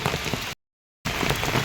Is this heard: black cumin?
no